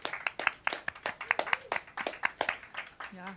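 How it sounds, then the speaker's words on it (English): Rhythmic hand clapping for Duncan Showroom, an acoustic music venue: a close, fairly quick series of sharp claps that carries on steadily with a faint voice partly underneath. "let's give a round of applause for Duncan Showroom"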